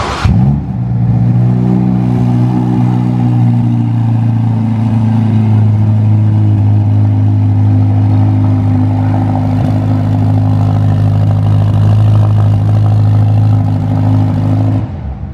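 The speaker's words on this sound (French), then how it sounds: "Et voilà, on a démarré la Roma." A Ferrari Roma's engine idles steadily just after start-up, a loud, close, even mechanical hum with a deep drone that holds without pause inside a dealership showroom.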